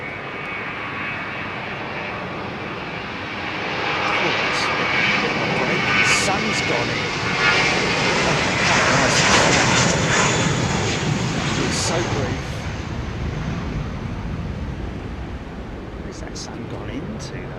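A jet airliner roars along runway 27R at London Heathrow Airport, a broad engine rumble that swells midway and then eases off, heard at a distance with faint voices underneath.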